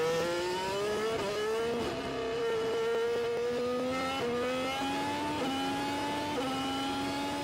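Formula 1 cars launching off the grid at the start of the 2025 Bahrain Grand Prix, from Carlos Sainz's onboard view, engines screaming loudly and climbing in pitch through repeated upshifts, with other cars roaring close by.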